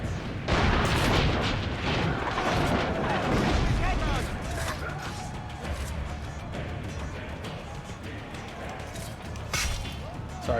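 Cannons firing during a siege in Assassin's Creed Brotherhood, heavy booming blasts and rumbling explosions thick at the start and easing off later, mixed with battle noise and character voices.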